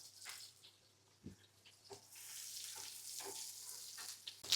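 Onion, cloves, cardamom and bay leaf hit hot oil in a pan with a few sharp clatters, followed by a broad, steady sizzle that grows and holds to the end, with no voices.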